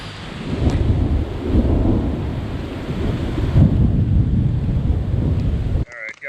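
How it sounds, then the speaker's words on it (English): A loud, heavy thunderstorm roars continuously, with dense rumbling and hail pelting nearby, wind buffeting the microphone throughout. "now I'm getting hit with some hail"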